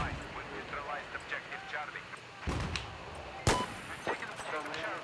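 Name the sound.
sniper rifle shots in Battlefield 4 video game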